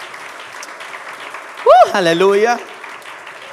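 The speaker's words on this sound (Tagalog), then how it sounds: "Yung may gana po na palakpak sa Panginoon." A church congregation claps for the Lord at a Sunday service, a burst of applause rising under loud cheering and shouted praise, then carrying on briefly before fading back to room noise.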